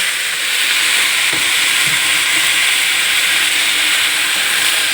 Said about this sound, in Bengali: এখানে আমার মশলা ভাজা হয়ে গেছে, এবার আমি এগুলো সব ঢেলে দেবো।